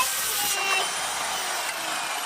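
A power saw cuts through a timber board for a triangular roof gable, giving a loud, steady high-pitched whine that shifts slightly as the blade moves through the wood, close and continuous.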